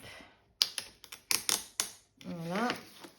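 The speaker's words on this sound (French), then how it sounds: "on peut également utiliser ce petit cutter là, de précision" A small precision craft knife cuts paper in several sharp, separate scraping strokes that sound close and crisp, then a voice speaks.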